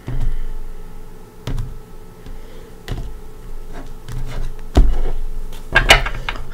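Tarot cards being shuffled by hand, giving a few soft riffling and tapping bursts spaced a second or so apart, with a sharper snap near the end, close and moderately loud with no talking.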